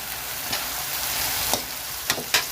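Bitter gourd fries in a pan with a steady sizzle, broken by three or four sharp scraping strokes of a spatula toward the end, close and fairly loud, with no speech.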